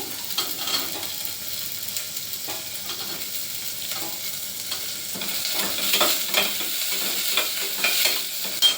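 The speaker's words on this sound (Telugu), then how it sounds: "నెక్స్ట్ ఈ మునక్కాయలు వేసేస్తాము. తర్వాత ఈ ముల్లంగి" Drumsticks and radish sizzle with onions in a hot pan for sambar, a steady close frying hiss broken by stirring scrapes and clatters, with no voices.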